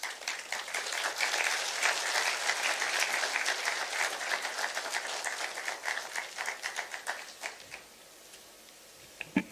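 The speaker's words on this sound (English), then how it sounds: "Another round of applause for Madam Ahuna." A large audience at a national address at Konza Technopolis breaks into sustained applause, dense and loud for several seconds before thinning into scattered claps and fading near the end.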